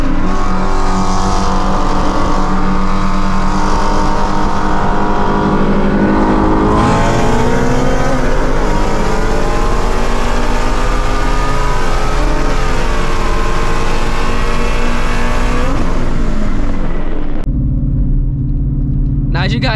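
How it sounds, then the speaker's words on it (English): A modified Shelby GT350 with headers and E85 races a stock Dodge Hellcat, the V8 engines roaring loud and close under hard acceleration with rising pitch through gear changes before cutting off abruptly. "put a video clip on the screen right now for you guys of me running up against a stock Hellcat"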